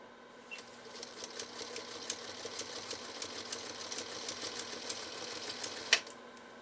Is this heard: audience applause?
no